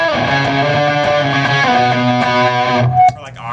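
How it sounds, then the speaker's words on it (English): Electric guitar played through a fuzz distortion pedal, a thick, saturated sustained chord and note line ringing with heavy harmonics, loud and close, cutting off near the end. "Which is like fuzz distortion. It's like way over the top, but it's like great for solos"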